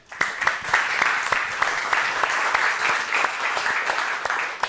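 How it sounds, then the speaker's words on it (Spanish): An audience applauds at a talk on levels of consciousness, a dense burst of clapping that rises quickly and holds steady throughout, close and fairly loud. "Un aplauso, por favor, para ella."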